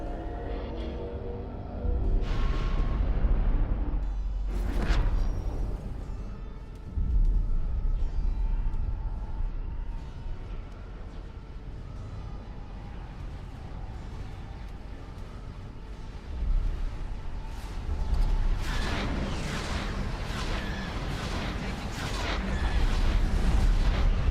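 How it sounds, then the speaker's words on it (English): Explosions and heavy booms from a Star Wars space battle in X4 with the Interworlds mod fleet fighting, arriving as repeated loud blasts over a constant rumbling din. The bursts are sharpest near the start and again toward the end. "Explosion imminent."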